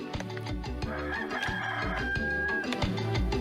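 Hens in a video game cluck and squawk in quick, busy bursts over a rhythmic game music track, the calls fairly faint and mixed into the music.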